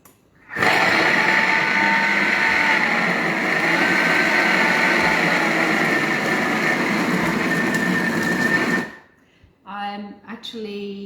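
A kitchen mixer runs at speed 6 for about eight seconds, working pastry dough with hard butter and water for mini quiches. The motor whirs loud and steady, then cuts off, and a voice speaks briefly afterward.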